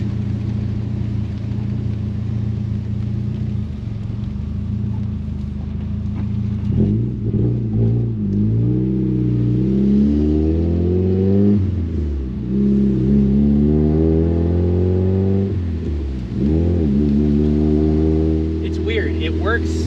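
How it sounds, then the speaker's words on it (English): Mazda Miata engine breaking up while driving, its steady drone stuttering and surging as revs rise and fall, with someone talking over it throughout. "car's breaking up pretty bad"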